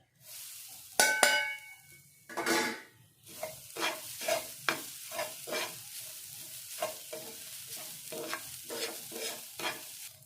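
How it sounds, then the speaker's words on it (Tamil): Semolina with grated coconut dry-roasting in a pan for Diwali somas, a metal spoon clanking against the pan at first, then a run of rhythmic stirring scrapes, close and fairly loud with no talking. "இப்போ இதில் தேங்காய் சேர்த்து வறுத்துக்கலாம்"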